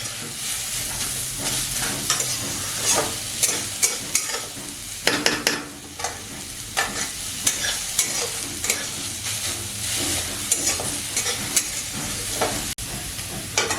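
Onions frying in oil in a wok while cooking desi duck curry, with a steady close sizzle and repeated scraping stirs from a spatula throughout. No voices.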